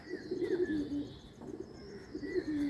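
Pigeons being fed coo softly nearby in a few repeated low, throaty phrases, with occasional faint chirps in a quiet morning setting.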